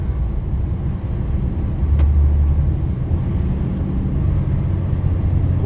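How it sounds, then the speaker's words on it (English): A truck's engine brake in a driving video game, a loud continuous low rumbling drone that holds steady throughout, with a brief faint hiss partway through. "Koči, motor na koči."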